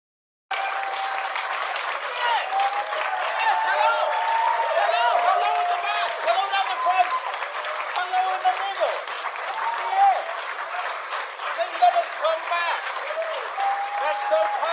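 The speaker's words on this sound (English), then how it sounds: "you can hear the little bit of audience rumble there" An audience at an improv comedy team championship semi-final keeps up sustained clapping and a low crowd rumble, with cheering voices mixed through the steady applause.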